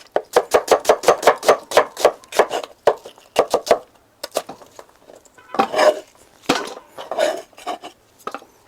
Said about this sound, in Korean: 양파를 썰고 양파를 준비해 두고